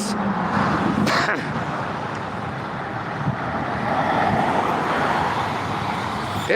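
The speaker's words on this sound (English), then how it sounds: "this is that Friday afternoon traffic in Dalton, Georgia" Friday afternoon road traffic in Dalton, Georgia: a steady wash of passing cars and heavier vehicles, moderately loud and continuous, with a brief louder pass near the start and some faint talk mixed in.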